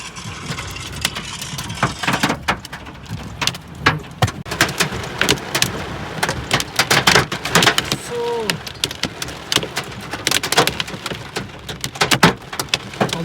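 Heavy hail and rain pelt down steadily during a thunderstorm in Abu Dhabi, a dense, continuous clatter with repeated sharp impacts and a low rumbling background throughout.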